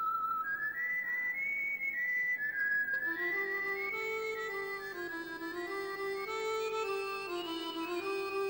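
A whistle sounds a wavering, sliding melody in a 90s TV show scene, a clear, sustained tune that rises and falls without pause for several seconds, with no talking.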